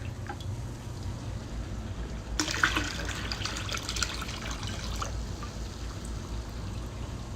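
Fresh water pours in a steady splashing stream for a couple of seconds, close and clear over a quiet background hum, then tapers off to a faint trickle.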